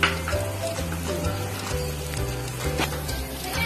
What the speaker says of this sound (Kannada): ದೋಸೆ ಹಾಕಿದ್ಮೇಲೆ ಹೈ ಫ್ಲೇಮ್ ಕೊಟ್ಟು ಆಮೇಲೆ ಮೀಡಿಯಂ ಫ್ಲೇಮ್ ಅಲ್ಲಿ ಬೇಯಿಸಬೇಕು.